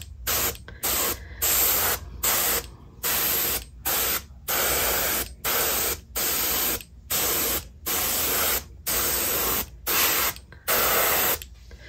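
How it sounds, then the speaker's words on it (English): An airbrush sprays paint onto a resin dragon crawler swimbait in repeated close hissing bursts of about half a second to a second each, with short pauses between them in an even rhythm. "I'm going to come back with another airbrush because I'm running two airbrushes right now."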